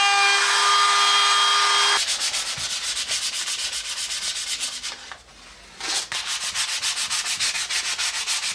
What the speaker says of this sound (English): And now that our frame is dried up, I'm going to give it a good sanding all over.